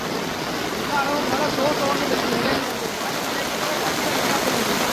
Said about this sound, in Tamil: வெள்ளம் எப்படி ஓடுதண்டு